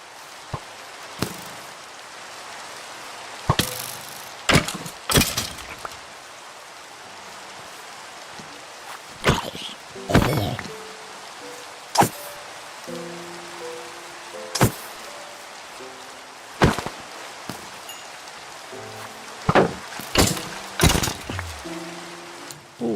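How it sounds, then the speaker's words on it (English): Rain falls across a Minecraft landscape in a steady soft hiss, broken by scattered sharp cracks and thumps from the game, with low musical tones drifting underneath. "It's raining."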